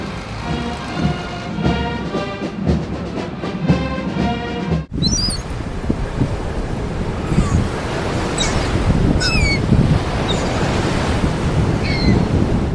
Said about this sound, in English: Watching water waves at the beach shore is itself a mesmerizing sight